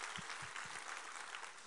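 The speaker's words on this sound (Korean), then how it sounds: "우리 하나님께 감사와 영광의 박수 올려드리겠습니다" Church congregation applauding in praise during a Korean worship service, a brief burst of dense, steady clapping at low level, far off with no voices.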